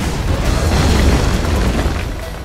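Bombing explosions in the video game C&C Generals, a loud rumbling boom that swells and rolls on for a couple of seconds, heavy in the low end, with no other sounds over it.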